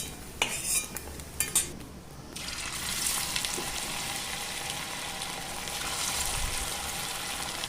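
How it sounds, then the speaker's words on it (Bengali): Coated paneer pieces frying in hot oil in a pan for chilli paneer, a steady close sizzle after a few clinks of a utensil against the pan at the start. "বাকি কেটে রাখা পনিরগুলোও কিন্তু একইভাবে আমি ভেজে নেব।"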